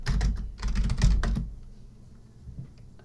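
Rapid keystrokes clatter on a computer keyboard as a Gradle build command is typed in, a dense burst of close clicks for about a second and a half before it trails off into a few sparse taps and quiet.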